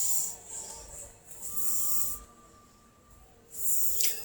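Pabda fish pieces hit a pan of hot oil with tomato curry, giving bursts of sharp hissing sizzle that rise, fade and flare again near the end, fairly faint overall with no talk.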